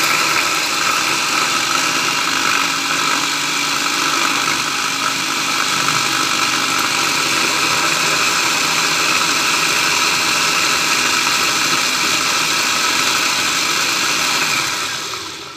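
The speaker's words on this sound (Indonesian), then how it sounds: "Nih, aku blender dulu." An electric blender grinding sambal ingredients runs loud and continuous with a steady, dense motor whine, holding constant for about fifteen seconds before easing off at the very end.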